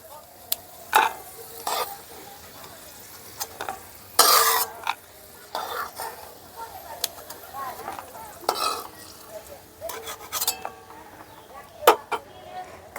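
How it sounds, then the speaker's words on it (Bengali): Cashews and raisins fried in ghee over a low gas flame make a quiet sizzle, with scattered spoon stirs and sharp clinks of a utensil against the pan throughout. "গ্যাসের ফ্লেমটা লো করে ভেজে নিচ্ছি"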